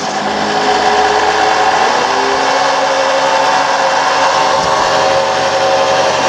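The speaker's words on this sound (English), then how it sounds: "we want to turn the PTO on and kick the throttle up" An engine is throttled up with its PTO engaged, giving a loud, steady mechanical roar. The engine's tone climbs early on, then it holds a constant high drone close by.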